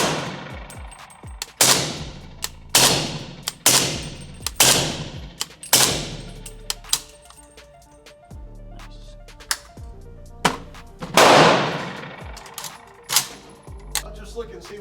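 An AK-pattern rifle fitted with a Krink-style short barrel, chambered in 300 Blackout and firing Hornady Black ammunition, cracks out about ten sharp shots at an uneven pace, close and loud, with brief pauses between groups.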